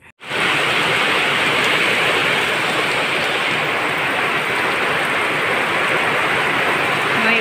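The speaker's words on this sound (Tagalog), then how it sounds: "May ulan." Steady heavy rain falls continuously, a dense even hiss that starts abruptly and holds at a constant loud level, with no voices.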